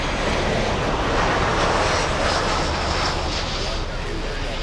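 A large jet airliner at Miami airport, a Boeing 747 among the traffic, roars steadily with a broad, loud engine rumble throughout, and a person talks over it.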